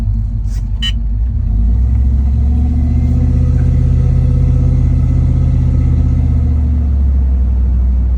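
A third-generation Ram pickup with a 5.7-litre V8 and cylinder deactivation turned off cruises at about 25 mph, its engine giving a loud, steady low rumble inside the cab that swells slightly and then holds.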